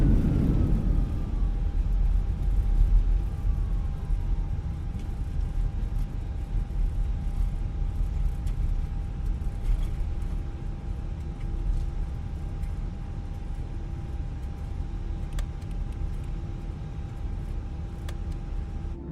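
Fenix A320 airliner landing in a flight simulator, with a steady broad roar of reverse thrust and rollout noise that slowly eases, plus a faint constant hum, and no talk.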